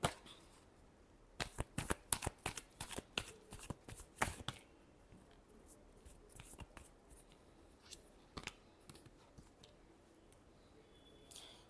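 Tarot cards are shuffled close up in a quick burst of crisp riffling snaps, followed by softer scattered card flicks and taps, with no talking.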